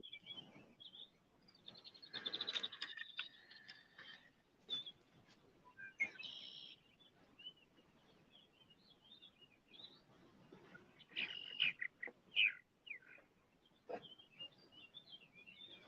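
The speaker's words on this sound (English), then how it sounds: "Like the birds are loving it out here." Birds chirp and call outdoors in scattered bursts, faint and fairly distant, with short tweets recurring over a quiet background.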